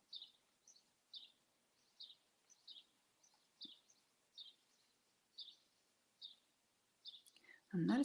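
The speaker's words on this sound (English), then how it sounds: "listen to the birds outside." Birds sing outside at 6 a.m., a faint, distant bird repeating a short chirping phrase about once a second in a quiet room, before a brief louder nearby noise at the very end.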